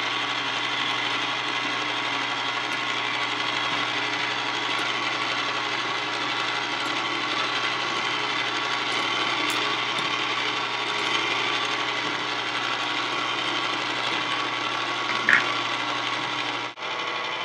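Ice cream machine churning a sugar-free strawberry ice cream base, giving a steady, continuous motor whir with a faint rhythmic mechanical rattle that runs unbroken throughout, with no talking.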